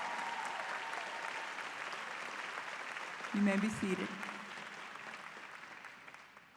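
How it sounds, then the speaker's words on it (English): Audience applause fills a nurses' pinning ceremony in 2024, a steady roomful of clapping that runs throughout while a voice briefly speaks over it near the middle. "Let's give these girls a round of applause."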